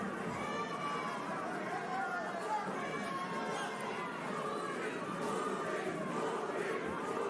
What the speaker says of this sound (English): The crowd getting a chant of Purin going for Caraballo.